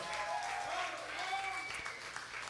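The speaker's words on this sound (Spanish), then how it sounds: "Un aplauso para ustedes." A crowd at a live concert applauds and cheers continuously, a dense wash of clapping with faint voices mixed in, heard from within the audience.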